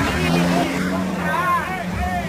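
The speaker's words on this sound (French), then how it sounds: "Je dois faire réchauffer le moteur d'abord." A car engine warms up with a steady, continuous rumbling drone, while voices talk over it.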